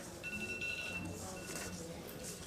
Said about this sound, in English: Please silence your phones, whoever's ringing.